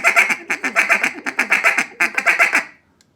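Duck call blown in quick feeding clucks and chatter, rapid bursts of short nasal quacks grouped in uneven runs, loud and close, then stopping abruptly into silence.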